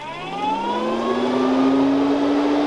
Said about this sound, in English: Go ahead and turn it back on. Make sure we got it blowing the right way.